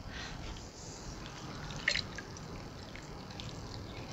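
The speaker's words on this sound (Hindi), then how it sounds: "एक बाउल के अंदर पानी ले लेंगे और इसके अंदर हम कलेजी डालेंगे।" Water drips faintly into a bowl as raw liver is washed, a couple of small drips and trickles over a quiet hissy background, with no talk.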